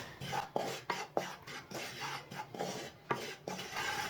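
Wheat flour roasting in a pan for coconut barfi, a spoon dragging and scraping across the pan bottom in a steady rhythm of short strokes, quiet and close with no talk.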